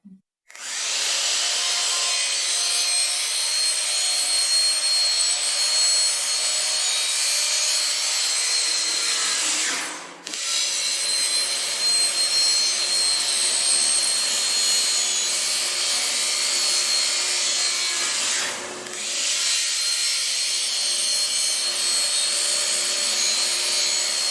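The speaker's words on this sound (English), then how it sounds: "we're going to start cutting out some pieces of our 4-inch pipe" A 4-inch dust collection pipe is cut in a woodworking shop, with a loud continuous power-tool whine and grinding cut running for long stretches, separated by two short pauses.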